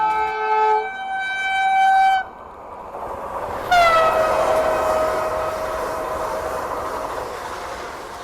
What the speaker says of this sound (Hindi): ये वंदे भारत ओवरटेक कर रही है राजधानी एक्सप्रेस को